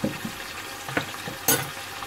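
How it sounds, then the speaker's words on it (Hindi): Goat liver pieces fry with ginger garlic paste in a pan, giving a soft, steady sizzle with scraping stir strokes and one brighter crackling burst partway through. "जिंजर गार्लिक पेस्ट के साथ इसकी 2 मिनट आप भुनाई कर लें थोड़ी सी"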